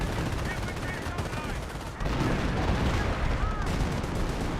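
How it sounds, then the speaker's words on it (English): Three Panther tanks fire a barrage in Company of Heroes, a dense rumbling stream of booming shots and crackling gunfire that briefly dips before surging back, with faint game voices mixed in. "Got 3 Panthers firing away. Three's firing a barrage somewhere"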